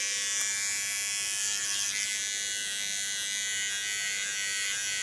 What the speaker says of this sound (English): take my fine clipper